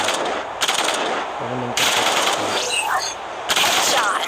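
Rapid automatic bursts from a Vandal rifle in the shooter game Hyper Front, several sharp loud volleys separated by brief pauses.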